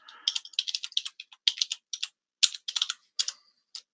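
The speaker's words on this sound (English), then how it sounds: "We're hearing a lot of typing." Rapid keystrokes on a computer keyboard come in quick irregular bursts with short pauses between, close and clear against an otherwise silent background.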